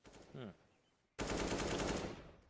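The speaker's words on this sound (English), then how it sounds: "Little wall bang there from Scream" Counter-Strike gunfire on the Inferno map, shooting through a wall in a competitive match, arrives as a sudden loud automatic burst after a short spoken word, a dense rattle that runs for over a second before fading.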